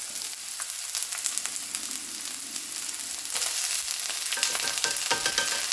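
Onions and peppers frying in a little oil in a skillet, a steady close hiss and crackle that swells louder partway through, with stirring scrapes and no voices.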